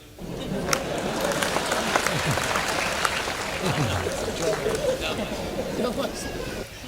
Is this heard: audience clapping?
yes